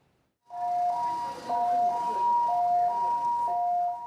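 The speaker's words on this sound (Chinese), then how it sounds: "警示声音一响，救护车随出动救人。" Ambulance siren wailing after a brief silence, a loud two-tone alternating pattern that repeats steadily at close range.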